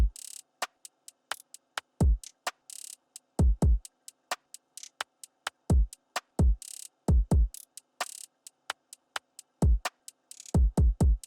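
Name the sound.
R&B drum beat with hi-hat rolls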